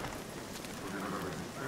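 Horse hooves clopping in the video game The Witcher 3: Wild Hunt, a soft steady trot under game ambience, with no talk.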